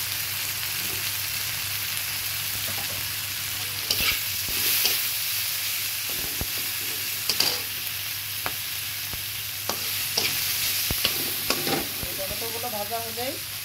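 Ground spices such as turmeric fry in hot oil for fish korma, a steady close sizzle broken by repeated scraping strokes of a stirring spoon against the pan, no talk.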